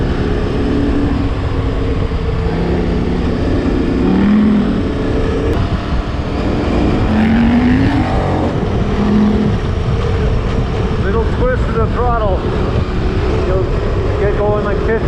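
KTM 1290 Super Adventure R motorcycle accelerating hard, with a loud steady engine roar and rushing wind throughout and rising tones as it gains speed.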